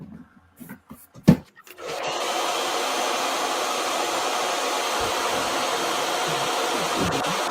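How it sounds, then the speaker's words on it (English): A few soft knocks and taps, then a hair dryer switches on and blows steadily and loudly onto a painted King Kong model, a constant whooshing hum that continues to the end. "I'll hit this with a blow dryer right now."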